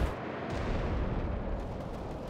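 Soviet tank cannons fire in a video game battle, a dense, continuous roar of heavy gunfire and booming blasts that fills the whole span without a break.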